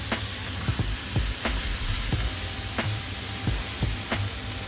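Shredded cabbage is stir-fried for Malaysian nasi kandar, with a steady loud sizzle in the pan and spatula clacks and scrapes at a fairly regular rhythm, close up and with no talking.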